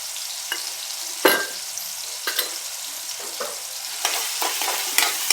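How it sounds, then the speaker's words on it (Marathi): Turmeric and curry leaves sizzle in hot oil in a pan while a spoon stirs and scrapes at intervals, close and steady with sharp clinks, no voices. "आपल्याला ना तेलातच हळद टाकून घ्यायची आहे."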